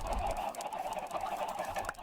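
Chickens on a farm in the video game Minecraft cluck and squawk continuously at close range against a dense, noisy backdrop.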